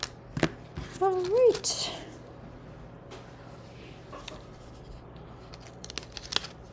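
Scissors snipping through paper while making a birthday craft, a few brief close cuts with a short spoken word nearby, then quiet rustling.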